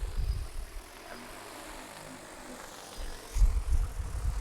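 An agricultural spray drone, a DJI T40 or XAG P100 Pro, flies over a farm field with a faint, distant whirring propeller drone, with low gusty bursts at the start and near the end.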